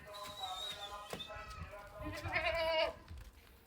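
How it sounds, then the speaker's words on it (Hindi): Amritsari Beetal cross goat bleating on a farm, a few close, wavering bleats over about three seconds, the last one louder and longer, with faint background noise. "बहुत ही खूबसूरत अमृतसरी बीतल क्रॉस बकरी है"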